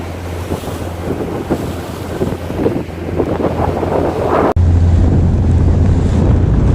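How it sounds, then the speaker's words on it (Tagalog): Strong sea waves surge and crash under steady wind buffeting the microphone, loud and close, with the motor drone of a small boat beneath. "Oh, lakas ng alon."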